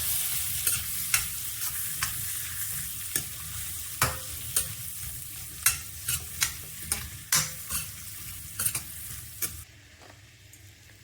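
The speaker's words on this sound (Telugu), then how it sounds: "ఈ బటర్ కరిగాక ఇందులో ఆనియన్స్ వేసుకుందాం, నీట్గా ఫ్రై చేసుకుందాం." Onions frying in melted butter in a kadai, a steady close sizzle broken by repeated sharp scraping clicks of a spoon stirring against the pan, with the sizzle dropping off near the end.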